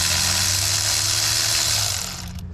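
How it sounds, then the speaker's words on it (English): A spark plug being spun out of the engine of a Kia Rio during a tune-up, with a loud, steady whirring hum from a close power tool that eases off near the end. "Spin that spark plug out of the way."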